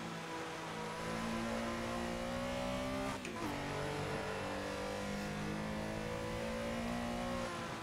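Porsche Carrera RSR 3.0 engine in Assetto Corsa pulls hard in 5th gear toward redline, a loud steady rising drone with a brief dip and shift-like break midway, then climbing again, without talk.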